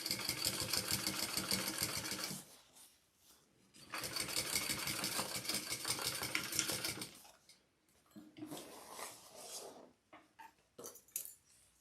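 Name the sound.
sewing machine top stitching fabric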